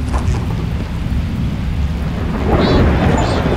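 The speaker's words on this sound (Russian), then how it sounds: "И сразу дождь прекратился." Thunder and rain from the video game Webbed: a steady wash of rain with a low rolling rumble throughout, swelling louder near the end.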